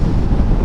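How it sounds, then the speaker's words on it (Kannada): Strong wind buffets the microphone of a heavy 500 kg motorbike riding at about 60, a loud, close, low roaring rumble in one short burst. "ವಿಂಡ್ ಬ್ಲಾಸ್ಟ್ ಹೊಡಿತಾ ಇದೆ ಗಾಳಿ ಇವಾಗ"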